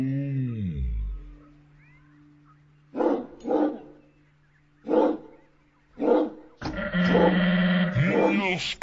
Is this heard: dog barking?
yes